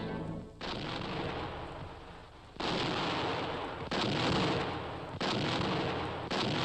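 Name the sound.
ceremonial black powder gun salute shots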